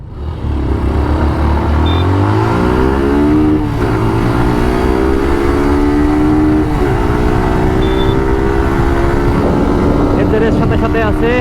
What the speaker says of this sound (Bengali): দুটো বাইকের টপ স্পিড চেক করবো এখন।